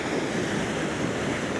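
Waves breaking on a Cornwall shore during sea fishing, a steady close wash of surf and wind rumble filling the whole moment without talk.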